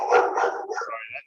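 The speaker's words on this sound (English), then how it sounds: "she starts barking because she likes to hear about recruiting" An indoor pet dog barks in a few quick, close yips and woofs, fairly loud, with a voice mixed in around the barking.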